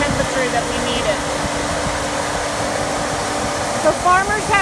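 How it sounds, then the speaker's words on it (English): A grain bin dryer on a corn farm blows air through the grain with a constant loud fan roar and a faint mechanical hum, while brief higher tonal chirps come and go in the background. "That's the dryer that runs air through the bin so that the grain, we can get it the right temperature that we need it"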